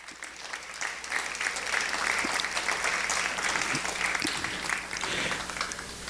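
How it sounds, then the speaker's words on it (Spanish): A church congregation applauds the Lord during a Spanish-language sermon, sustained clapping from a crowd swelling and holding steady at a moderate distance. "Vamos a darle un aplauso al Señor."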